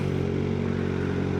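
A steady, loud Kawasaki Ninja ZX-6R motorcycle engine drone with rushing wind noise, continuous and close, as if heard while riding.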